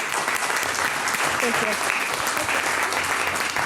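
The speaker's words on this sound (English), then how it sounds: "let's give her a round of applause, please" A round of applause fills a city council meeting in Salinas, steady dense clapping from the room while a voice briefly speaks over it.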